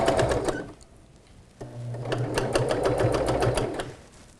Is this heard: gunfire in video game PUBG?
no